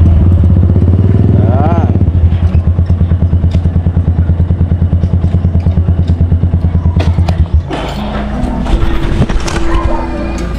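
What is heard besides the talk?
motorcycle engine while parking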